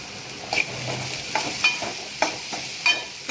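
Bitter gourd fries and sizzles in a pan with salt, with a steady hiss and several distinct scraping stirs of a spatula spaced through the stretch, close and fairly loud.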